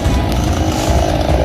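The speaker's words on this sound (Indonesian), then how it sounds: "langsung mengevakuasi batang pohon menggunakan gergaji mesin" Chainsaw cutting a fallen ebony tree trunk after a storm in Makassar, a loud, close, continuous engine whine held steady throughout.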